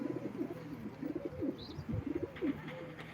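Pigeons cooing at a live pigeon auction, repeated soft throaty coos overlapping in an irregular rhythm, close but low in level, with no talk.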